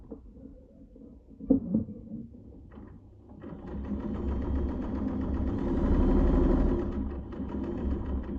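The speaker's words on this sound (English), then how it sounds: "So I'll just do a quick test on a bit of scrap just to make sure tension's okay and she's sewing." A vintage Japanese clone of a Singer Class 15 sewing machine, modified for heavy-duty marine canvas, test-stitches a scrap: a few soft clicks, then a steady motor hum with rapid needle rhythm that builds louder and runs continuously.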